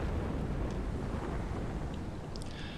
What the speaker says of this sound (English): So we got this explosion down here.